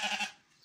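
A healthy sheep being raised for Eid al-Adha gives a single short, close bleat that quickly trails off.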